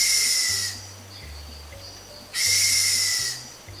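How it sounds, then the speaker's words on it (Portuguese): Brazilian pica-pau bufador woodpecker making two breathy, hissing puffs a couple of seconds apart over a low droning hum in the background. "É o pica-pau bufador."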